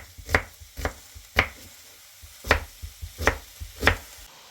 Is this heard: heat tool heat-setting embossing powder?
no